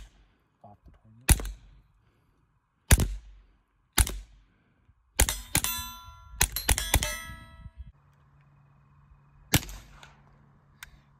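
Taurus TX22 Compact .22 pistol shots at an outdoor range, each sharp crack followed by a ringing clang of steel targets; several spaced single shots, then a quick cluster of rapid shots and one more after a pause.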